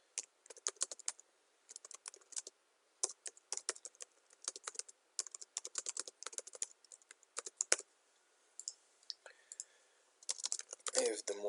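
Fingers tap out code on a computer keyboard in quick irregular bursts of crisp clicks separated by short pauses, close and quiet with no talking.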